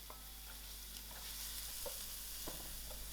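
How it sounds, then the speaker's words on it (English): Chopped onions fry in heated olive oil in a pan, a faint, steady hiss of sizzling with soft occasional stirring clicks and small pops, low and close. "Just going to throw in my onions. I will allow these onions to fry till soft."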